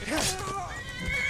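A horse neighs in a video game, a sharp whinny with falling pitch over about a second, heard close and clear while someone talks over it.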